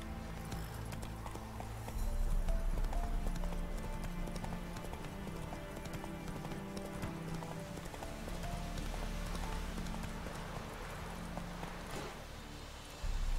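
Horse hooves clip-clop steadily through the whole stretch over a busy game soundscape in The Witcher 3: Wild Hunt, with faint ambient noise underneath.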